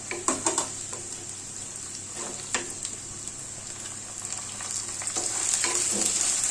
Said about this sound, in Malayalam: ഇനി നമുക്കിതിലേക്ക് കറിവേപ്പിലയും അതുപോലെ തന്നെ പച്ചമുളകും അങ്ങോട്ട് ചേർത്ത് കൊടുക്കാം